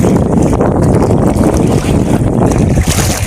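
A boat pushes through high waves on the Mekong River, with dense, steady wind and water rush buffeting close to the microphone and no clear voices.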